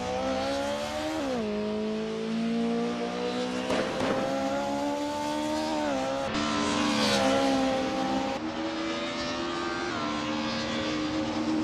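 Racing video game with engines droning and revving steadily at high pitch, their tones rising and falling through gear shifts, plus occasional tire squeals and passing bursts, loud and continuous.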